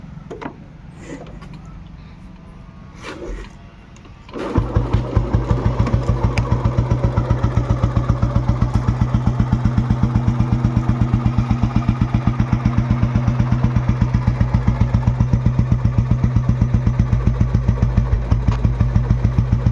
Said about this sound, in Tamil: இன்ஜின் எப்படி இருக்குன்னு சொல்லி ஸ்டார்ட் பண்ணி காட்டுறேன் பாருங்கள்.